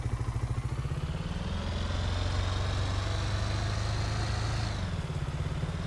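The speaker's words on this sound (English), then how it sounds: "Whoa, that's a big truck" A big truck's engine idles steadily in Farming Simulator 19, a low mechanical rumble with a light clattering rhythm that holds evenly for several seconds before easing slightly near the end.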